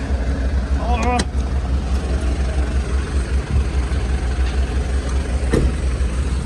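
A Sany SY215C excavator's diesel engine running at a dirt pit, a steady low rumble filling the scene, with people talking over it.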